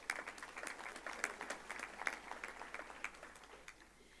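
An audience at a university graduation ceremony claps for science honours graduates: scattered, fairly thin applause with distinct individual claps standing out, moderately distant and steady.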